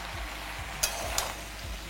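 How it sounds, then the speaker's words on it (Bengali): Potatoes and pointed gourd fry softly in an uncovered pan, a low steady sizzle with a couple of sharp stirring clicks of a spatula, close by and without talk. "এটাকে আমি আলুর সাথে ভালো করে ভেজে নেব।"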